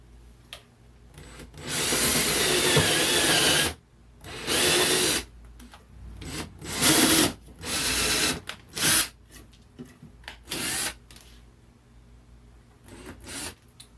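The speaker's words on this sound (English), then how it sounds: "that tape will prevent this drill from going all the way through the wood" Several loud bursts of a power drill biting into wood, each lasting a second or two, separated by short pauses in an otherwise quiet room.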